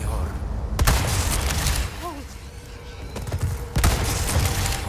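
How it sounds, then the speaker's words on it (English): Gunshots ring out in the video game Resident Evil 4 Remake, several sharp, loud cracks spaced a second or more apart over busy game noise, with a brief voice heard between them. "I do need to shoot these guys in the face."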